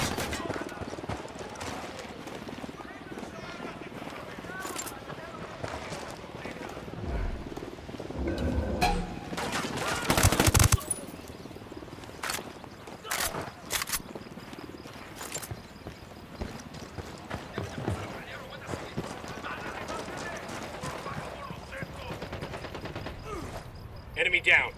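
Scattered gunshots and bursts of fire in Ghost Recon Wildlands ring out amid dense game ambience with hoofbeats, including a loud cluster near the middle and sharp isolated cracks throughout.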